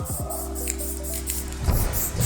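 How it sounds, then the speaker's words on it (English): An aerosol spray paint can hisses in short bursts, with a steady rattling tone and a louder spray near the end, close to the microphone with no talk. "when you're spray painting is the way that you hold this can will affect your blend"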